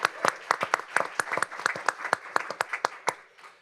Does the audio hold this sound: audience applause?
yes